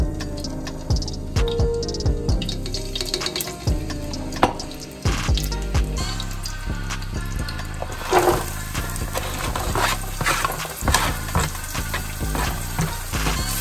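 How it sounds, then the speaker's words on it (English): Half an onion and minced garlic sautéing in oil in a frying pan, a steady crackling sizzle with scattered pops and clinks of stirring throughout, close and fairly loud with no talking. "We're just going to saute these until they become translucent."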